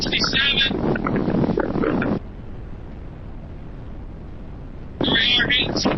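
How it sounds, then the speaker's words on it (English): Heavy wind noise buffets a vehicle fitted with a Starknight MT flip-up windshield while driving at speed. A loud rush fills the first two seconds, drops to a steadier lower roar, then surges again near the end. "Boy, it's a lot of wind."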